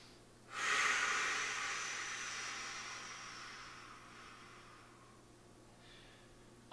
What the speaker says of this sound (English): So now watch if I get a full exhale after my inhale.